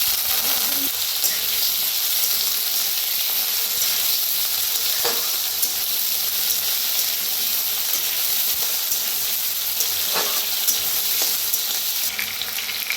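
Potatoes frying in hot mustard oil in a kadai, a steady loud sizzle and hiss throughout with occasional faint stirring clicks.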